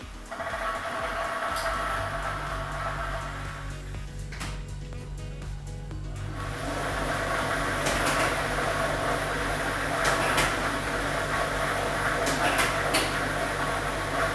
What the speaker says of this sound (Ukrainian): І ми вмикаємо вмикаємо лототрон.